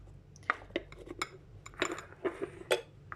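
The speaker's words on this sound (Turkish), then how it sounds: "Böyle hepsine bir kaşıkla şeker koyuyorum arkadaşlar bu harcın içine." Spoon clinking against a bowl while sugar is spooned into an apple and hazelnut filling, a series of about eight sharp, close metallic taps at irregular intervals, no talking.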